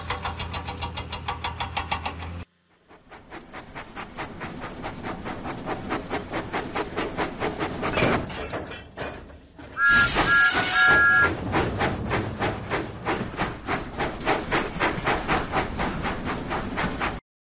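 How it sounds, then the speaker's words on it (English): In a video game, Thomas the Tank Engine, a steam locomotive, puffs out of the docks with rhythmic, regular chuffs that gradually build. A short steam whistle sounds partway through, and the puffing continues steadily and loudly after it. "Thomas pumped his pistons and puffed out of the docks."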